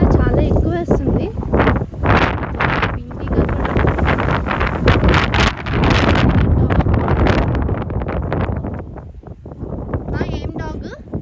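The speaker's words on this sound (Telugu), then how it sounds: "ఈరోజు గాలి కూడా చాలా ఎక్కువ వేస్తుంది" Strong gusts of wind batter the microphone at an alpaca farm, roaring and buffeting loudly in uneven surges while people talk over it.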